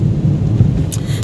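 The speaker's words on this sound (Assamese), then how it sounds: "কিন্তু বৰষুণ দি আছে" Steady rain pours down on a road during a hot spell, a dense broadband hiss with low rumbling, heard alone and close for the whole stretch.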